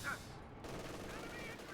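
Machine gun fire from an MG34 in a World War II tank video game, heard as a brief, dense rattle of shots throughout, fairly close and steady, with no talking over it.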